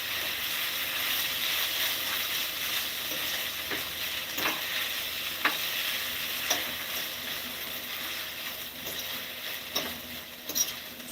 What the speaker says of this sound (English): we're just going to stir this up